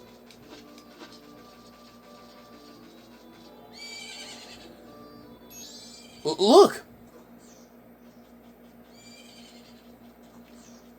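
Epona the horse from the video game Zelda: Majora's Mask lets out a short, loud whinny midway, set against quiet game music with chiming tones, and a voice speaks briefly just before.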